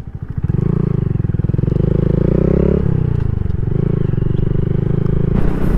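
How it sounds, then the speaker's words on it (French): A Yamaha MSX motorcycle with an aftermarket exhaust pipe, engine running loud and close with a steady throbbing idle and a slight rev change, crackling pops and backfires audible near the end. "on a également des petits retours de flammes et des pétarades bien sympas quand même"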